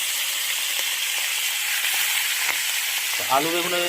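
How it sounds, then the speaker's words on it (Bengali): Fish frying in oil, a loud, dense and even sizzle throughout, close up, with a short voice sound near the end. "মাছ এই যে ভাজা হচ্ছে"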